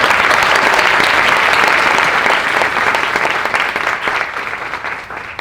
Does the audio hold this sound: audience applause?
yes